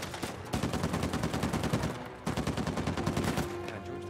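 Loud rapid automatic gunfire in Uncharted 4, two long machine-gun bursts of tightly spaced shots separated by a brief gap, close and dominant.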